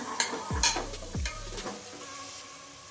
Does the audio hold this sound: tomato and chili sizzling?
yes